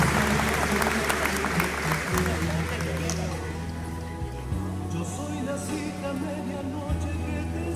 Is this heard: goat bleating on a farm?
no